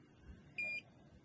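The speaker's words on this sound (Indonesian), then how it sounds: "Buzzer bunyi, kita jauh lebih dari 15 cm." An Arduino buzzer gives a single short, clear electronic beep at a steady pitch, about a quarter second long, over faint background noise.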